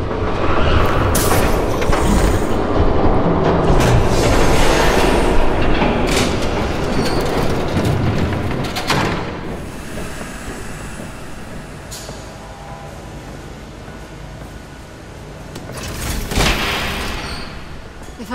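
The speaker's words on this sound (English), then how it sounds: "There's a train coming." Train approaching in the video game Batman The Telltale Series, a loud continuous rumble of rolling rail cars with wheel clatter and bursts of squeal, swelling and easing over time, with no talk over it.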